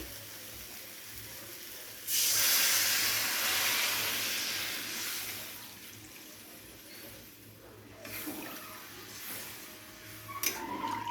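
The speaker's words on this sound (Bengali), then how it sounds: "এবারে আমি এখানে দিয়ে দেবো গ্রেভির জন্য জল।" Water poured into a hot pan of spiced fish-head curry with potatoes bursts into a loud rushing hiss that slowly fades, followed by quieter bubbling and a few light clinks of stirring.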